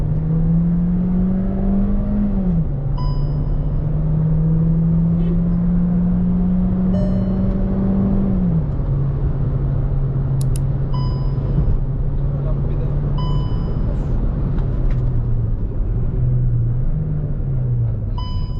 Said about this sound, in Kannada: ಒಂದ್ಸಲಿ ಫುಲ್ ಥ್ರಾಟಲ್ ಕೊಡೋಣ ನೋಡಿ